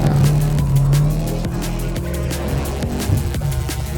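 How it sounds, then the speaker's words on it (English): Subaru BRZ sliding around a full course in a skid, engine roaring and tires squealing in wavering bursts, loud and close throughout. "our BRZ in full skid mode, it's time for the main event"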